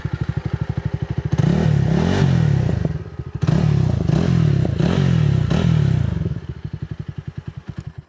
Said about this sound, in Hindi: एग्जॉस्ट नोट तो इसका काफी प्यारा है, बट एक चीज मैंने नोटिस किया, जब एग्जॉस्ट अपन रेव कर रहे थे तो ये वाला पार्ट हिल रहा था।